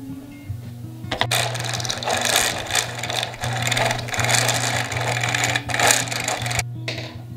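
A 3D-printed book charkha spinning wheel turns with a steady mechanical whir and a rapid rattling clatter, running continuously at close range from just after the start and stopping near the end.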